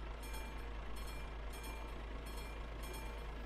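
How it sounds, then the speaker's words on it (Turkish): A train rolls past in a TruckersMP truck driving game, a steady, fairly loud rumbling wash of rail noise with faint periodic hiss bursts repeating about every second, no voices. "Şöyle baktığımda ha tren geliyor."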